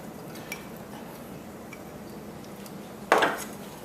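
Stirring salted cod in a non-stick frying pan: a quiet low kitchen background broken near the end by one sharp, close clatter of utensil against the pan.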